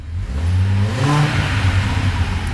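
An Audi RS engine swapped into a VW Caddy revs quickly and raspily, a loud close-up burst of rising engine roar that climbs in pitch, then holds a steady high drone with no one talking.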